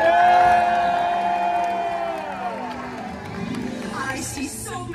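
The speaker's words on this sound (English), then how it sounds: "let me hear your best royal cheer!" A crowd of families and children at a SeaWorld San Diego pirate and mermaid stage show cheers and whoops, rising loud at first then fading into scattered shouts, with a sustained musical tone underneath.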